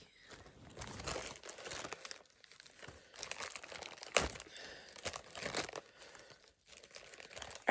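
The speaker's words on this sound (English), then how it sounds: "Let's rip this off." A name label being ripped off a plastic medication container, crinkling and tearing in several bursts of close, fairly quiet rustle with short pauses between pulls, no talking.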